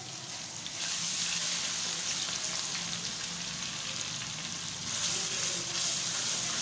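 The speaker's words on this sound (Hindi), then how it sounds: "और साथ ही साथ इसमें डाल देती हूँ मैं अदरक लहसुन का पेस्ट।" Ginger garlic paste fries with golden onion and masala for a chana and masoor daal tarka, giving a continuous close hiss and sizzle that swells slightly at moments.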